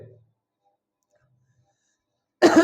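After a near-silent pause, a single short, loud cough bursts out close to the microphone.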